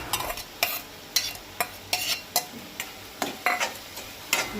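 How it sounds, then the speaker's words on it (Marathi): Chopped carrot being sautéed for Goan rava upit, a spatula scraping and stirring the pan in a steady run of about a dozen sharp strokes over a faint sizzle, close and alone. "गाजरूय आतां 2 मिनटां बरो परतून घेता"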